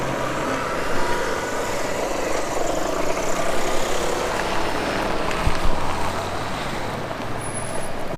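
A long truck rumbling past on a town street in Montpellier, France, a steady low engine drone and road roar that swells slightly and fades, fairly loud with traffic noise around and no talk.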